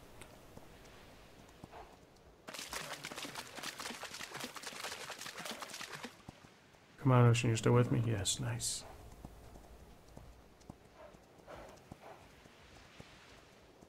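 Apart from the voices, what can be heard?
horse hooves galloping in a video game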